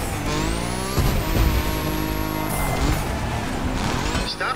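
A Nissan 370Z Nismo in the racing game The Crew Motorfest revs hard down a straight, its engine note climbing through gear shifts, loud and close with a steady high whine riding above the roar.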